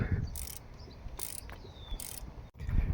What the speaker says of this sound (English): Now we're gonna loosen this bolt, and after we're gonna loosen the belt.